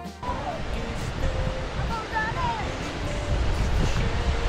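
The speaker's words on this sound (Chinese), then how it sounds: "行落嚟呢度可以近距离接触瀑布" A waterfall on Australia's Great Ocean Road gives a steady, close rushing roar of falling water, with a few faint bird chirps rising above it throughout.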